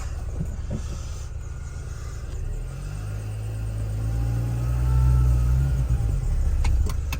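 A warmed-up 2003 Mini Cooper engine idles steadily as a low, continuous rumble, swelling slightly louder in the second half, with faint hiss and no voices.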